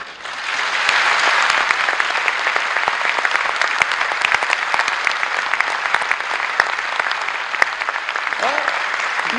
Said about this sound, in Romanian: Nu vă grăbiți să aplaudați.